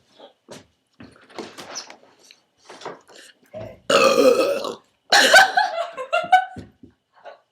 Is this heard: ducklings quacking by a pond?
no